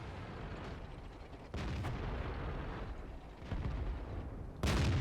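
Tank cannon shots in a World of Tanks battle: several heavy booms spaced a second or two apart, each a loud broadband thump over a constant rumbling background, the last one strongest.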